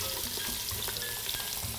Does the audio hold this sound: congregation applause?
no